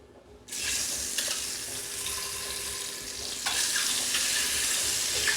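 Eggs hit a hot pan for a spicy Andhra egg gravy, and a loud, steady sizzle breaks out after a short quiet start, swelling again partway through with no talking.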